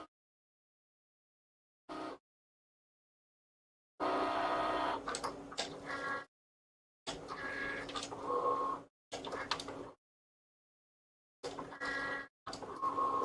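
Cricut Maker drawing with a pen, giving short bursts of whirring motor and sliding carriage noise separated by silent gaps, close and fairly quiet.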